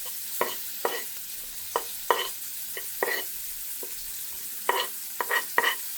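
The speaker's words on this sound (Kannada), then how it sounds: "2 ಈರುಳ್ಳಿನ ಹಾಕಿ ಸ್ವಲ್ಪ ಫ್ರೈ ಮಾಡ್ಕೊಳ್ಳೋಣ" Two chopped onions fry in oil in a pan with a steady low sizzle. Several scraping stirs come at irregular intervals over the frying.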